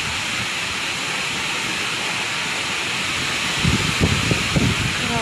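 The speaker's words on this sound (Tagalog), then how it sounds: "Malakas na ang daloy ng tubig sa Sapa." Floodwater rushes hard through a creek during Typhoon Uwan, a loud, steady broadband roar with a few low thuds near the end.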